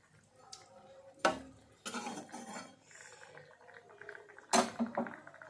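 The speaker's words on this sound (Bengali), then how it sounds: "এই যে চিকেন স্টু, ঠিক আছে, এটা এখন খাবো, তো সে কারণে একটু গরম করে নিচ্ছি।" Chicken stew with papaya and potato being reheated in a pot: a spoon clanks and scrapes against the metal in a few loud bursts, with softer stirring and clinks between them, and no talk.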